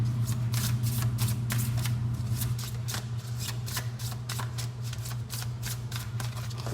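Tarot cards being shuffled in quick riffling bursts, steady and close, over a low constant hum with no talking.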